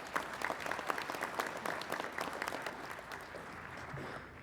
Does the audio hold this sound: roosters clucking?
no